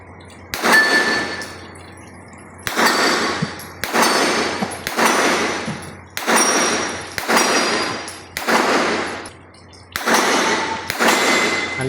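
CZ Evo Scorpion 3 firing single shots outdoors while zeroing a red dot sight, seven loud sharp reports spaced about every one and a half seconds, each with a ringing decay.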